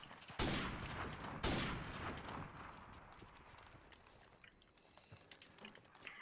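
An M40 rifle fires in a fast-paced 1v1 video game match: two sharp, loud shots close together near the start, each trailing into a long reverberant rumble that slowly fades with faint clatter.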